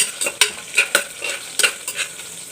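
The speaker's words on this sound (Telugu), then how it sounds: "ఇప్పుడు ఇందులోనే జీలకర్రను కూడా వేసుకున్నానండి ఇది కాస్త వేగాలండి" Cumin seeds frying in a pan of hot oil, a close, steady sizzle with sharp crackles and intermittent stirring scrapes, no voices.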